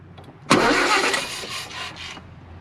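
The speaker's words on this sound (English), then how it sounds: "You can use that to bump the engine over" A car engine is bumped over by an under-hood starter button, a loud close burst of cranking and turning over that fades in short pulses, with no speech.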